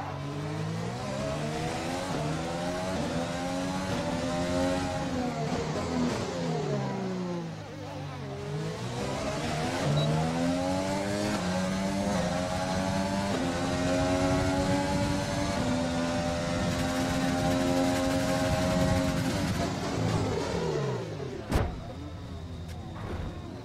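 Race cars on the last lap of a race roar past in a continuous stream of engine noise, pitch sweeping up and down as they accelerate and pass, loud and near for over twenty seconds.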